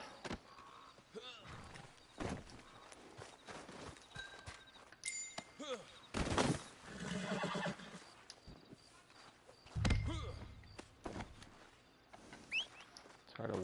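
Horse hooves clip-clop and a horse neighs among Red Dead Redemption 2 Online game sound effects, with scattered bird calls and occasional speech over the busy mix.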